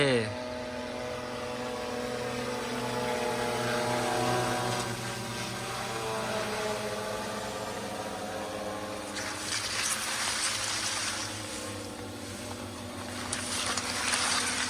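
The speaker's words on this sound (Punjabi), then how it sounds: "ਤੁਹਾਨੂੰ ਦਿਖਾਉਂਦੇ ਆ ਡਰੋਨ ਆਉਂਦਾ ਇੱਧਰ ਨੂੰ" A steady motor drone with buzzing harmonics that slowly rise and fall in pitch as an agricultural spray drone hovers and moves nearby over a sugarcane field, with people talking.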